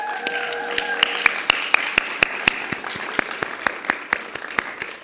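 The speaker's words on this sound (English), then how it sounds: "Y'all can keep the applause." An audience at a pinning award ceremony claps, with sharp individual claps close to the listener over a steady wash of applause.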